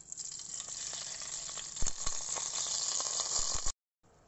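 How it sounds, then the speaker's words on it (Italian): Soffritto sizzling and frying in oil in a pot for a tripe, pea and potato dish, a steady close hiss with a few sharp crackles and pops, then it cuts off abruptly near the end. "In una pentola aggiungo il soffritto e l'olio."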